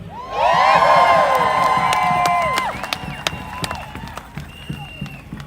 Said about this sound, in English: Give me a cheer if you're feeling good